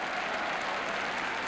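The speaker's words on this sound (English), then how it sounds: "Tremendous applause the Leicester City players are getting as they come off after a 4-1 victory" Steady, dense crowd applause at a Leicester City v Watford football match as the Leicester City players leave the pitch after a 4-1 win, a continuous wash of many hands from a large stadium crowd.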